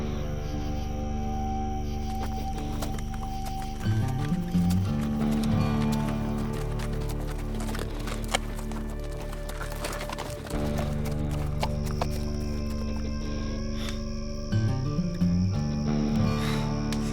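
Horse hooves clip-clop in a steady riding rhythm throughout, with a horse in a Western setting, set against a sustained musical drone and faint chirping insects; no one speaks.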